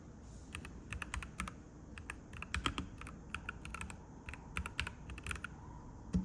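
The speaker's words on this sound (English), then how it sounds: "Mechanical keyboards are good." Clacking keys of a mechanical keyboard typed up close in quick irregular runs, each press crisp and distinct over a low steady room hum, with no voices present.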